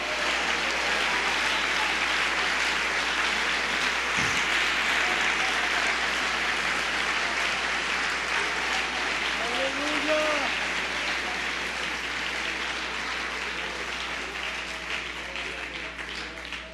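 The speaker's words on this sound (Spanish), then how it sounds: "darle un aplauso fuerte al Señor" Loud, sustained applause from a church congregation praising the Lord, dense clapping holding steady for over fifteen seconds. Voices rise through it and a brief shout cuts in near the middle.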